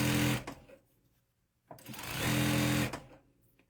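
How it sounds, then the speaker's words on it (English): A sewing machine stitching crochet pieces together, running in two loud steady bursts separated by a short pause, close up and dominant. "I'm going to sew that."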